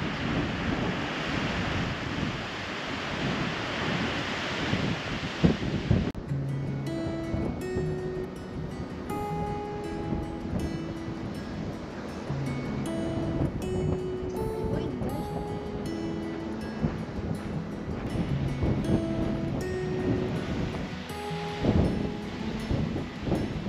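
Strong wind buffets the microphone over a steady wash of waves by a creek in stormy weather, with no talking, continuous and fairly loud throughout.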